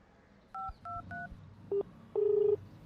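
A series of telephone keypad tones beeps in short bursts, then a longer steady tone sounds as a phone call is cut off, with faint room noise and no talking.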